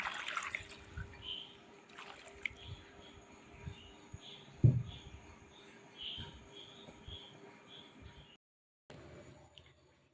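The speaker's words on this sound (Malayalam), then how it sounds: "ഇതിനാവശ്യമായ വെള്ളം നമുക്ക് ഒഴിച്ചു കൊടുക്കാം." Water poured into a clay pot holding yam and plantain, a soft trickle and splash up close, faint and uneven, followed by a brief quiet near the end.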